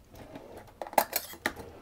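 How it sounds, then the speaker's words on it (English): Pistachios tipped into the small plastic bowl of an immersion blender, giving a short burst of light clattering and rattling hits, close and fairly quiet, with no talking. "I'm going to put them into the small bowl of my immersion blender like that"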